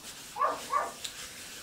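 Small dog giving two short growling whines a moment apart at a squirrel, close by, with quiet surroundings and no talk.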